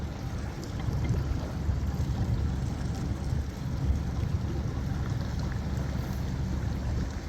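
Suzuki 75hp outboard motor idling at low speed on a boat, a steady low rumble with wind and water noise over the whole stretch, no voices.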